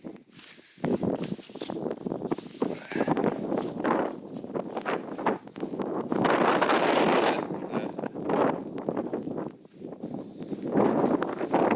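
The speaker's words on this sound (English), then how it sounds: "It's windy as heck, so I'm trying to protect the camera from the wind" Strong wind batters the microphone outdoors while checking beaver traps, in loud, uneven bursts of rumbling and rustling, nearly continuous with brief lulls.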